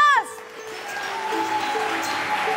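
Studio audience applause on a television entertainment show, a steady wash of clapping that swells and holds after a brief sweeping tone at the start.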